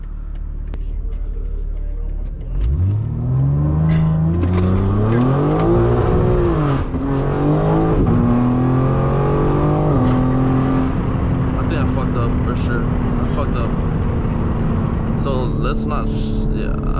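A 2024 BMW M3 G80 Competition xDrive attempts a launch-control start, the engine roaring up through rising revs and a shift, then holding a loud, sustained drone close inside the cabin.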